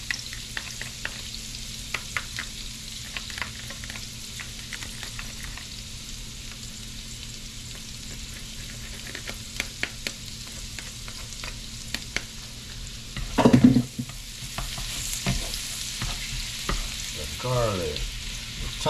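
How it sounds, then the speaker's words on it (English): Minced garlic frying in a hot pan with butter and oil, a steady soft sizzle with scattered clicks, one louder scrape or clatter near the end. "At this time we just add our minced garlic."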